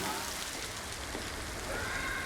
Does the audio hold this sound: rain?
yes